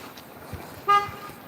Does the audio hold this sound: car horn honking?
yes